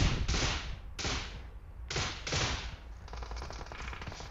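Bursts of gunfire in PUBG Mobile crack out in separate volleys with short gaps between them, then settle into a steadier rattle, moderately loud.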